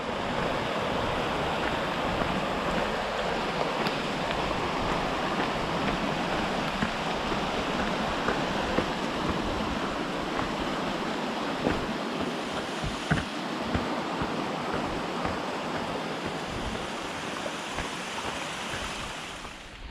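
Steady rain hisses in a dense, even wash around a hiker walking on the Appalachian Trail near the James River, loud and continuous, with gusts of wind buffeting the microphone.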